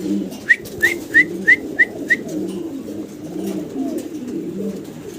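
Several short, evenly spaced bird calls ring out early, like pigeons, over a low murmuring background that continues after they stop.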